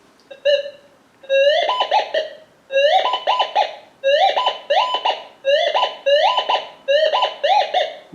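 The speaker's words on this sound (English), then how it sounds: "Now here's just a nail." A Gold Monster 1000 metal detector swept over a nail gives repeated warbling electronic beeps in quick bursts after a brief first chirp, loud and close with no voices.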